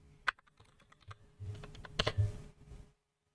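Keys on a computer keyboard tapped as a terminal command is entered, a quick irregular burst of close clicks with a few louder strikes, fairly quiet and without speech.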